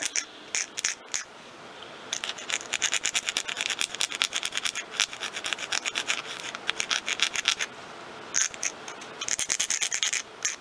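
An artificial nail tip is shaped into a stiletto point with a nail file, giving rapid rhythmic rasping strokes close up, in quick runs broken by short pauses.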